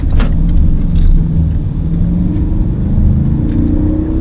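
A 500 horsepower Lexus with a 1JZ engine pulls hard from close by, a loud deep engine drone whose pitch climbs steadily as it accelerates, with no voices over it.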